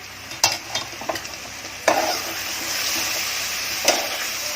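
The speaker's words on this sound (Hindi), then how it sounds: "अब इसमें डाल रही हूँ भिंडी।" Medium pieces of okra (bhindi) fry in a pan with a steady sizzle, broken by several close scraping spoon strokes as they are stirred.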